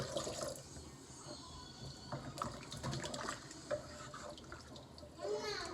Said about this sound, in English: So I'm adding this 2 cups of water.